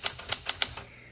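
Five quick, crisp keystrokes clack on a 1973 Smith Corona Galaxie Twelve typewriter, evenly spaced and close, each with a sharp metallic snap, then a brief quiet tail.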